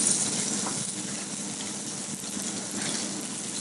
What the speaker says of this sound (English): Cook them down now, but very, very gently, in terms of 30 seconds in the pan, and that's it.